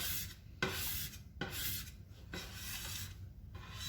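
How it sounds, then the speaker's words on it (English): A spatula scrapes stuck blackberry cobbler dough off a kitchen counter in soft, rasping strokes, several rough passes close by and fairly quiet. "I'm going to scrape this up with my spatula"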